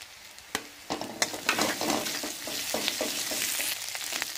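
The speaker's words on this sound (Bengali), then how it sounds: "আদা বাটাটা দিয়েও ভালো করে নাড়বো।" Onion, garlic and ginger paste fries in a pan for mixed vegetable dal, a steady close sizzle broken by repeated scraping clicks of stirring. No voices.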